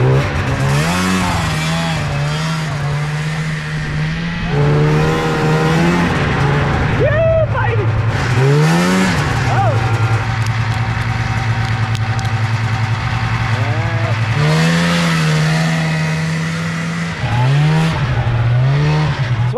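A cheap used snowmobile engine runs loud and close, its pitch rising and falling repeatedly as the throttle is worked, with brief speech over the motor.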